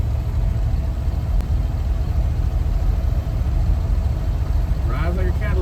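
A 1960 Cadillac Series 62 engine running rough after long storage, a steady loud low rumble that continues without pause, with a brief higher squeal near the end.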